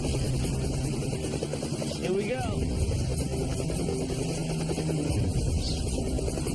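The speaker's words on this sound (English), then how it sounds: "the helicopter's going to start swaying back and forth" A helicopter drones continuously with a loud, low engine roar while a person speaks briefly over it.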